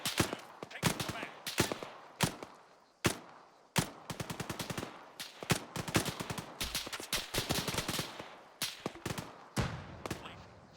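Bursts of automatic machine gun fire from a military video game battle, rapid rattling volleys spread across the scene, some isolated shots between them, loud and close.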